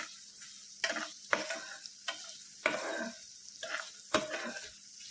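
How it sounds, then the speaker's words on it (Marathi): Garlic is sautéed in a pan for poha chivda. A soft, steady sizzle runs underneath while a spatula gives repeated stirring scrapes and taps against the pan, fairly quiet and close. "लसूण थोडासा सोनेरी कलर येईपर्यंत आपल्याला चांगली परतायची आहे."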